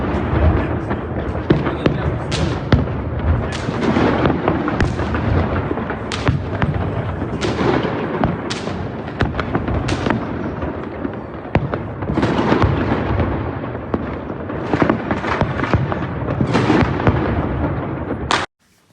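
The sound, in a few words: fireworks exploding over city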